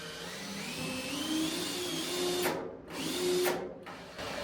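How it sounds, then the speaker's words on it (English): A power drill whines steadily, drilling through the metal ceiling of a shipping container, its pitch rising and falling as it bites through, with two short pauses in the motor near the end. "if I go here, it should drill through the metal"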